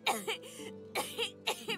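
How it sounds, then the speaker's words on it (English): A woman in Divinity: Original Sin 2 breaks into a fit of harsh, close coughing. Several sharp bursts come in quick clusters, with strained, wheezy vocal tones between them. "She stops mid-shout, descending into a fit of coughing, wheezing, and groaning."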